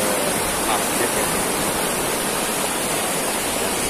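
Deep, fast-flowing river among large rocks in a rural Banyumas village, a dense, steady roar of rushing water that stays loud and even throughout with no other sounds.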